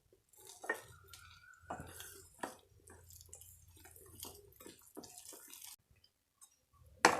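Gram flour batter is stirred with water in a bowl, giving soft intermittent scraping and clinking of a spoon against the bowl with small wet splashes, close and quiet, with no voices.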